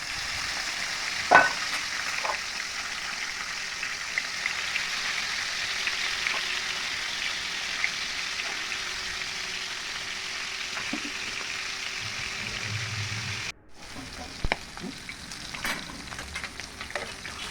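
Pangas river fish fries in hot oil with a steady, loud sizzling hiss throughout, a brief splash as pieces go in and a short break near the end.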